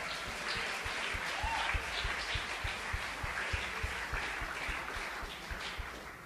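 Church congregation clapping in praise during a Spanish-language sermon, a moderate, steady patter of many hands heard at some distance, fairly soft and continuous throughout.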